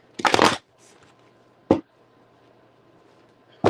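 Tarot cards are shuffled in three quick riffled bursts, a longer one at the start and two short ones later, with quiet pauses between.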